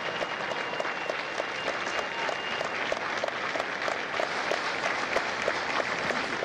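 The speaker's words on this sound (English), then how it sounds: "Ladies and gentlemen, a round of applause for their dedicated service to Corps and country." Audience applause at a Marine Corps recruit graduation at MCRD San Diego, a dense, even patter of many hands clapping steadily throughout, moderately distant and with no voices over it.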